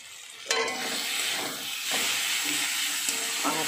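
Fish curry with tomato and onion being stirred in a hot pan: a steady hissing sizzle punctuated by a few spatula scrapes and knocks against the pan, close and fairly loud.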